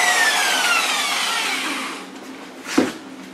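A Black & Decker car buffer polisher whirs at high pitch and then winds down to a lower, quieter hum, followed by a brief clunk near the end, with no voices.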